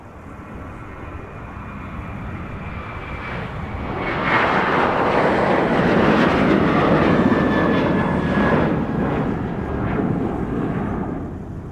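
A Sun Country airliner takes off from Minneapolis–St. Paul airport on a winter day, its engine roar swelling steadily from a distance into a loud, sustained rumble that holds for several seconds without fading.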